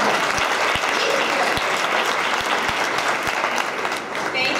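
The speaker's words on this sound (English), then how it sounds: "Give her a round of applause anyway." An audience applauds at a community event honoring guests, dense steady clapping filling the room throughout at a strong, even level.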